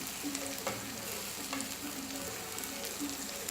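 Onions frying over high flame in a non-stick pan, browning for chicken handi, with a constant close sizzle and occasional stirring scrapes, and nobody talking.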